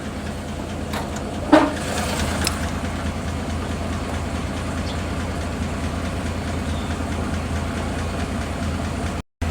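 Toyota FJ40 engine on its original carburetor idling steadily, a smooth continuous low rumble close by with a brief sharp click near the start.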